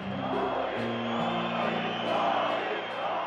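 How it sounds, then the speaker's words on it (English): A large crowd of protesters in East Berlin in 1989 chants in unison, steady and dense, with a rhythmic mass of voices holding throughout. "The crowd began to chant the name of the Soviet leader."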